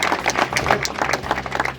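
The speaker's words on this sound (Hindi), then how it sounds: "इसलिए सबकी तालियां बजनी चाहिए।" An audience applauds at an honouring ceremony where a Sindhu Sabha team thanks pilgrims, with dense, steady clapping from many hands throughout, close and fairly loud.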